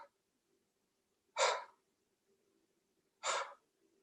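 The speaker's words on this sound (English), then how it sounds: "you're trying to blow out that candle with your exhales." Two forceful breaths are pushed out through the mouth during a yoga breathing exercise, each a short, loud, close-up whoosh, spaced about two seconds apart over a faint steady background hum.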